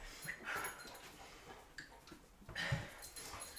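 A visiting dog named Juniper makes soft whimpers and small yips across a few seconds, moderately close, amid light room noise during a home fitness session.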